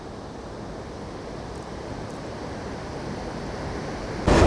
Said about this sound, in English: the entire river falls over the falls there